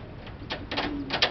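Pigeons in a breeding coop with young chicks, giving a few soft, brief calls and rustles in short bursts over a quiet indoor background, nearby and faint.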